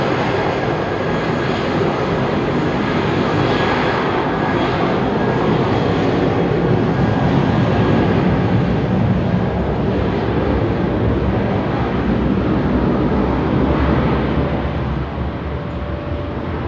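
An airliner taxiing at London Heathrow Airport gives a loud, steady broadband jet engine roar that holds evenly throughout, heard from a distance outdoors.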